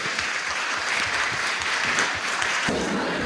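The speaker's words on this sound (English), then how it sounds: "Give yourselves a round of applause." Audience applause at a conference hall event, dense steady clapping from a large crowd throughout, with a brief cheer and voices mixed in.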